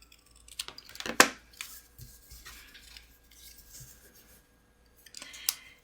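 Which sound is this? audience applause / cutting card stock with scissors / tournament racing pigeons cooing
cutting card stock with scissors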